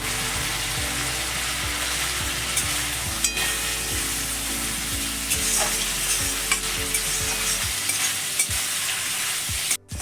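Ginger paste added to fried tomatoes sizzles in oil in a pan, stirred with repeated scraping strokes over a constant close frying hiss, ending with a short drop.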